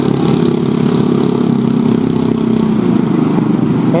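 A village-built homemade helicopter's engine runs loud and close, a steady droning roar that holds through the whole stretch with slight throttle swells as it is revved up.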